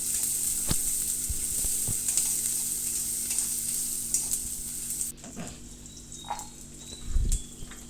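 Onions and curry leaves sautéing in oil after mustard seeds and cumin have popped, a bright steady sizzle with a few stirring knocks, then quieter frying with scattered pops near the end, no talking.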